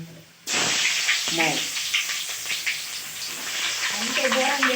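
Fenugreek seeds and onions hit a hot pan and set off a sudden loud, steady sizzle that hisses on for several seconds, while a voice speaks over it.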